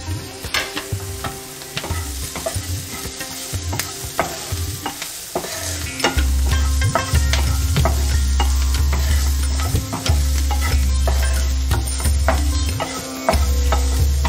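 Beans, carrot and cauliflower for spring rolls stir-fried in a pan, a steady sizzle that swells louder partway through, broken by the repeated scrape and clatter of a spatula, with no voices.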